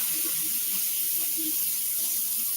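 Hot tap water runs into a kitchen sink in a steady, even hiss, at moderate level and without talk.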